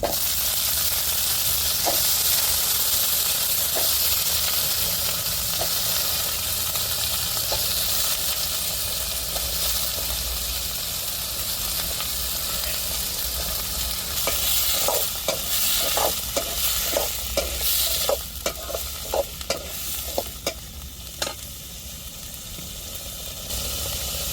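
Steady frying sizzle of small tubers (siru kizhangu, Chinese potato) in a pan, with a run of sharp stirring scrapes and clinks toward the end; no voices.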